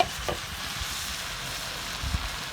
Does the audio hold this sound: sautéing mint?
yes